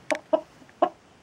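A bearded laying hen, moulting heavily, gives a few short clucks just after her egg was taken; three or four close, distinct calls with brief pauses between them.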